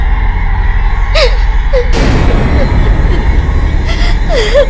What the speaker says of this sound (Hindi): ये अजीब से रोने की आवाज कैसी?